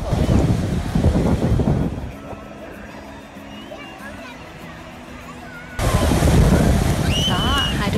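Wind and surf on a crowded, sunny beach, a steady rushing wash of waves and gusts that carries the whole clip, with people's voices and chatter over it at the start and end.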